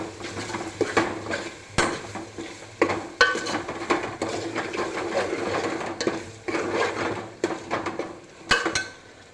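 A spoon scrapes and clatters against a pan as turmeric is stirred into a spiced tuver (pigeon pea) mixture, with irregular metallic knocks and scrapes over a faint sizzle, close and fairly loud, no talk.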